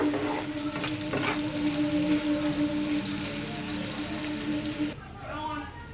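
Green chillies fry in hot oil with a loud, steady sputtering sizzle that fills the background, while a person talks over it throughout.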